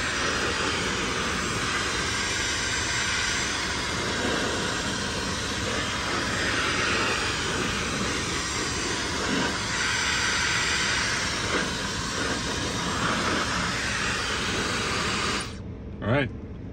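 A heat gun blowing steadily on the adhesive backing of carbon fiber interior trim for a 2022 Ford F-150, a loud continuous broadband hiss that runs without pause and cuts off abruptly near the end, followed by a brief thump.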